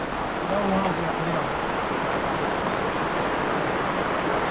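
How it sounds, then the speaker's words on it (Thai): Rain falling steadily outdoors as a continuous broadband patter and hiss, with a brief low voice murmuring early on. "ฝนตกอีกแล้วทุกคน"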